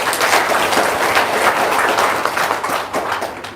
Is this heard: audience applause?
yes